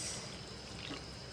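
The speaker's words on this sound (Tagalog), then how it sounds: "Lagyan natin ng 1 cup na tubig" A cup of water pours steadily into beaten eggs with a soft, continuous trickle that is close and quiet, with no other sound over it.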